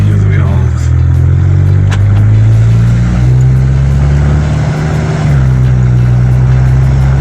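A Subaru boxer engine rumbles loudly up close, holding a deep, throaty idle with a slight rise in revs partway through.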